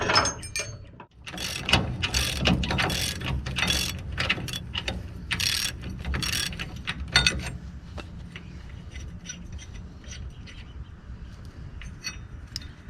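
A hand ratchet loosening the two bolts that hold a clutch linkage bracket to a vehicle frame: rapid clicking ratchet strokes in bursts, close and clear, easing into lighter metallic clinks and fiddling.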